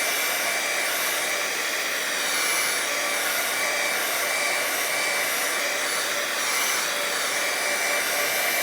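A heat tool blows steadily on wet watercolor paint, a constant close whooshing hiss that holds at even loudness throughout with no talking.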